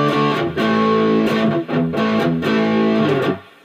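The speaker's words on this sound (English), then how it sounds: "Now with the drive on the distortion channel set at 3 o'clock" Heavily distorted electric guitar through a Visual Sound Jekyll and Hyde pedal, drive at 3 o'clock, playing thick, sustained chords in bursts with brief gaps, loud and close, buzzing with gritty overdrive.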